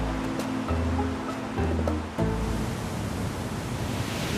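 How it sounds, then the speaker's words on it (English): Roaring rush of El Acha waterfall in Venezuela heard up close, a dense steady wash of falling water with brief low thumps of wind on the microphone. "then we stop off to get even closer to the El Acha waterfall"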